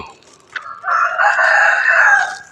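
A single rooster crows loudly and close by at a temple in Lampang, Thailand, one drawn-out call preceded by a short cluck.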